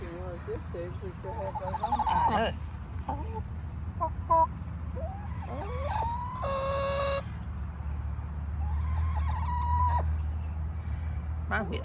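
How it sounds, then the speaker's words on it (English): Chickens at a living history farm in Conway, South Carolina give scattered clucks and a crow over steady outdoor background noise, while people talk nearby. "Look at those chickens over there."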